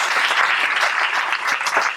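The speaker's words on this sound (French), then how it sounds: "Et ben on peut encore les applaudir" An audience at a corporate plenary meeting claps steadily in a dense, sustained burst of applause with no talking over it.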